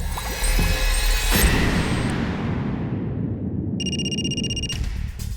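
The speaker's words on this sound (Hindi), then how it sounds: "सर, आशा के ससुर का फोन है।" A phone rings in a dramatised household scene, an electronic ringtone pattern chirping in bursts over a hissy background with no talking.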